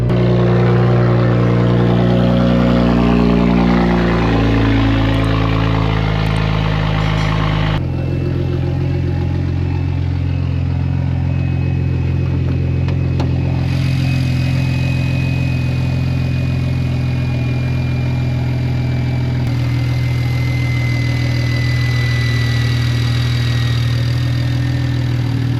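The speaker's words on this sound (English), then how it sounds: "let's get a cold start" A BMW E92 car engine fires up from cold and settles into a steady, loud idle, its deep rumble continuing with a slight drop in pitch after the first few seconds.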